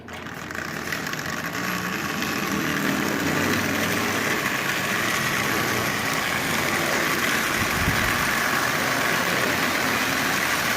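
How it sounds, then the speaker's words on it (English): A Marx 400 toy locomotive fitted with a 999 motor running around the rail track, a steady whirring motor hum with faint clicking rail rumble, continuous and close. "So the 400 with a 999 motor, first trip around the rail."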